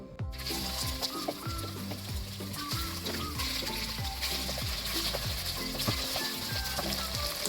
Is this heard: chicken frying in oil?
yes